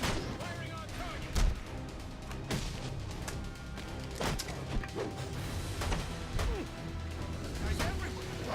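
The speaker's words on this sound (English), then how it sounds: "Firing on target." Gunfire in Batman: Arkham Origins, a series of sharp, scattered shots and impacts punching through busy game noise, with voices talking over the action.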